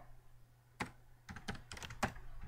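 Quick bursts of typing on a computer keyboard, a few scattered key clicks followed by faster clustered keystrokes, close and fairly clear over a quiet room.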